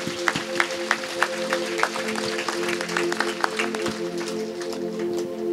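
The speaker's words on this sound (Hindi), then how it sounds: "ताली बजाती हूं" A congregation at a Christian worship service claps in a steady, rhythmic beat, a dense crowd of hands filling the room, with faint voices mixed beneath.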